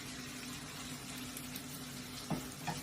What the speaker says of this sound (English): all we're going to do is pour the egg in from one side